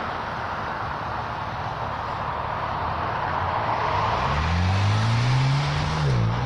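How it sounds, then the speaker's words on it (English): Road traffic near Buckley Air Force Base: a steady wash of passing cars with a vehicle accelerating and sweeping by up close near the end, its engine tone rising and then falling away. "There's enough traffic noise out here"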